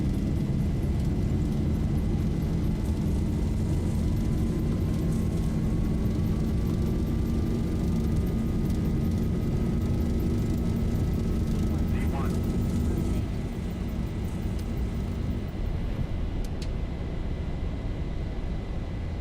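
Boeing 737 jet engines spooling at takeoff thrust in the X-Plane flight simulator, a loud continuous roar with a slowly rising whine, sustained throughout.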